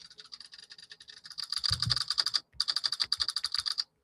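Rapid keystrokes clatter on a computer keyboard in quick, uneven bursts with a brief pause near the end, close and fairly quiet.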